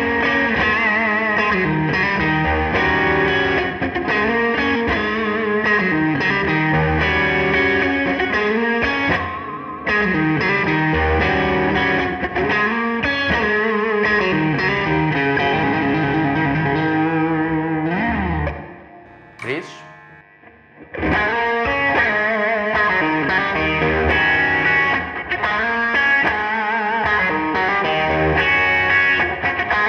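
Electric guitar played through a Nux Steel Singer overdrive pedal with gain maxed, heavily distorted riffs and sustained chords, loud and close, with a short near-silent break partway through.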